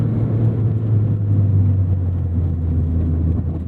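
Engine of a Mazda ND3 Miata track car while driving, a steady low rumbling drone with a constant hum and no voices over it.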